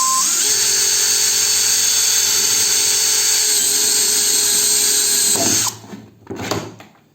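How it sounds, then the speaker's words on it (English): Cordless drill boring into plastic, a loud, steady high-pitched whine held for several seconds, then it cuts off and a couple of short bursts follow. "I have a drill bit of plastic drilling, and we'll try drilling the plastic"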